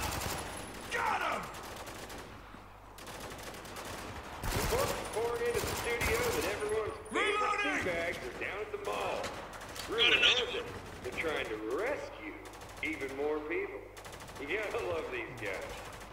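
Machine gun fire in the video game Spec Ops: The Line comes in repeated rapid bursts mixed with other battle noise. Someone talks over the shooting throughout.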